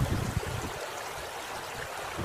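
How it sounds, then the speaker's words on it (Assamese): A natural river stream babbles with steady broadband water rush, slightly louder at the start, continuous and fairly close with no voices. "প্ৰকৃতিৰ নদীৰ কুলু কুলু সুৰ"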